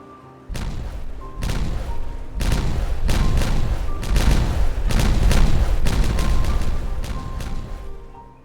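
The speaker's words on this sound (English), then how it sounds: "So let's set these explosives off, and hopefully we won't catch any beavers in the explosion." A rapid chain of explosives detonates in Timberborn, about ten heavy booms in quick succession with deep rumbling tails overlapping into a loud continuous barrage.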